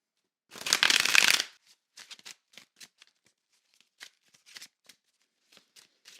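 A deck of tarot cards gets a quick riffle shuffle, a dense crisp burst, followed by a scattering of soft, sparse taps and slides as the cards are handled in a quiet room.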